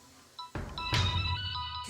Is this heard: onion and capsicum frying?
no